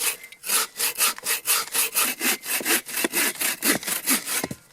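A bow saw cuts a log for firewood at a winter camp, with about eighteen even back-and-forth strokes of rasping wood noise, close and continuous.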